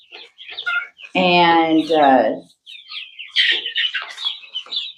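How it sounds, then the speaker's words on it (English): Young chicks in a brooder give high chirps and short clucking calls, including a longer loud squawk near the middle, close by, with a person talking intermittently around them. "he's a sweet little chicken"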